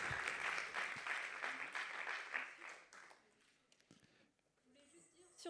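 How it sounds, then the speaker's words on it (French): Audience applause after a prize is presented at an award ceremony, a dense burst of clapping for about three seconds that fades into scattered claps and quieter room noise. "On peut applaudir."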